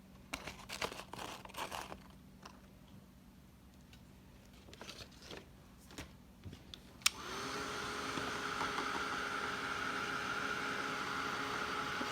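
Hair dryer blowing on a glittered card, switching on partway through after quiet rustling and small handling taps, then a steady whooshing hum that holds to the end.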